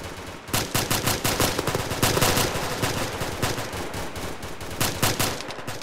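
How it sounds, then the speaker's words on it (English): A firefight in the Arma 3 game with ShackTac players, sharp rapid gunshots and machine-gun bursts cracking close and loud in irregular clusters, with echoing reports between volleys. "There's fire coming from the southeast."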